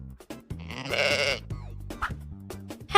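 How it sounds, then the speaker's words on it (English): A sheep bleats in a short, wavering call amid a busy mix of other animal-like sounds, fairly loud and close, with no talking. "Sheep."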